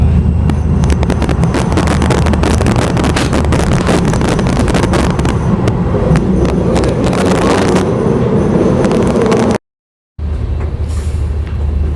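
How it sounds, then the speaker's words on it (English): A train rolls past close by outdoors, producing a loud continuous rumble and rattle of rail cars mixed with wind buffeting the microphone. The noise cuts off abruptly near the end and then continues at a lower level. "And I guess there's a train coming,"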